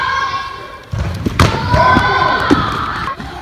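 A handball hits with a sharp thud amid a lively indoor crowd during a handball shooting challenge, with a few further thumps and cheering or shouting voices around it.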